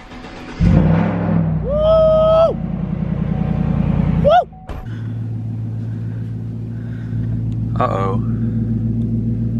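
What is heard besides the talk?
lifted 2020 Chevrolet Silverado truck engine starting and driving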